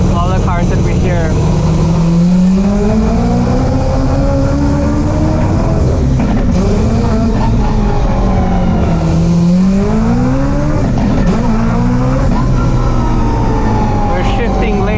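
A car engine revs loud and close while driving, its pitch climbing and dropping through gear shifts with a throaty, constant drone, and a voice talks over it throughout.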